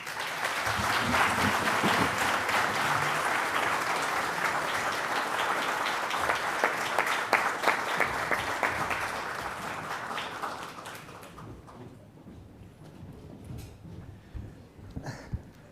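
Warm audience applause at a corporate keynote welcoming a new CEO to the stage, loud and steady for about ten seconds before thinning out into scattered claps.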